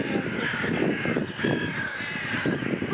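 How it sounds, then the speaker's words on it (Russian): Crows caw repeatedly outdoors in Egypt, harsh calls at moderate distance over a steady background hum. "Там вороны."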